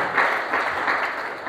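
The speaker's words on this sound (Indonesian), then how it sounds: "Beri tepuk tangan terbaik buat Tuhan." A church congregation claps together during a Pentecost sermon, a brief, steady burst of many hands with slight pulsing swells, moderately loud and unaccompanied by speech.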